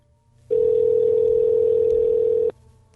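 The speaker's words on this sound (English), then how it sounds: "here's the phone call I just made to the winner" A steady single-pitch telephone dial tone of about two seconds, loud and clean, on a phone call placed from a radio show, starting and stopping abruptly with near silence on either side.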